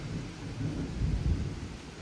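Deep rolling thunder rumbles continuously through a rainstorm, low and heavy, swelling louder toward the middle, with a steady wash of rain underneath and no voices.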